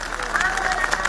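An audience at a public speech applauds in a brief burst of steady, close clapping.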